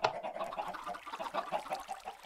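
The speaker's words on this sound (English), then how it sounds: "Sorry for the chicken noises." Minecraft chickens in a wheat farm cluck and squawk in a steady stream of short, overlapping calls, fairly close and moderately loud, with no one talking.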